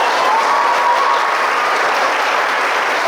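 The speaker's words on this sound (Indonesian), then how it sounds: "Kasih tepuk tangan sekali lagi dong" Steady, dense applause from a large crowd at a talk show event in Bengkayang, sustained and even throughout with no pauses.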